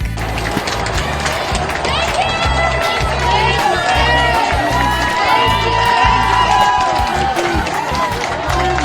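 A large outdoor crowd at a Black Lives Matter gathering cheers and shouts continuously, a loud dense roar with whoops and voices layered over it, close and steady across the whole stretch.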